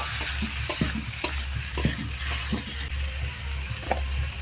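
Boiled potatoes stirred in hot oil spiced with turmeric and chilli powder, a steady sizzle with repeated scraping strokes of a spatula across the pan, close and continuous with no talking.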